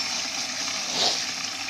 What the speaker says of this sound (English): I'm going to fill it full of water and go through.